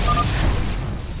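Heavy booming weapon volley explosions in the video game StarCraft 2, a dense, loud low rumble that fades slightly toward the end, with no talking.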